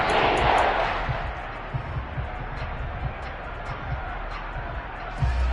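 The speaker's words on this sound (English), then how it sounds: "this crowd's going to get even louder" Stadium crowd roar in the Madden 23 football video game, a steady loud wash of massed voices with scattered thumps and bursts, continuous throughout.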